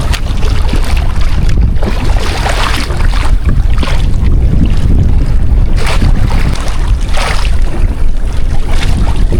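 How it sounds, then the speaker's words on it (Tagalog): Strong wind buffets the microphone while waves slap and rush around a small fishing boat out squid fishing, a loud, continuous roar with surging bursts throughout. "Hindi pa rin tumitigil yung hangin tsaka alon."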